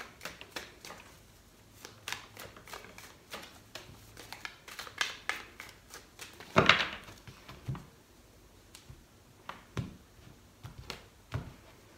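Tarot cards are shuffled close by in a quiet room, giving irregular crisp flicks and riffles with one louder burst of shuffling partway through.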